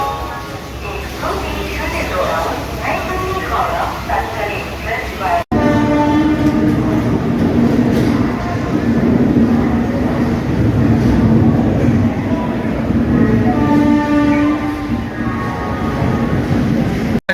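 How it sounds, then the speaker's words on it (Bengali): The 12337 Shantiniketan Express with LHB coaches pulls out of Howrah station, heard from on board. Wheels rumble and clatter steadily, horn tones sound, and voices chatter nearby throughout. "আমাদের ট্রেন একদম কারেক্ট টাইমে ছেড়ে বেরোচ্ছে হাওড়া স্টেশন দিয়ে"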